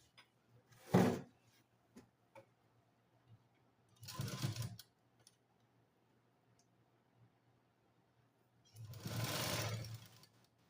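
A sewing machine stitches a blouse in three separate bursts: a short run, a longer run, then a longer steady whir, with quiet pauses between them.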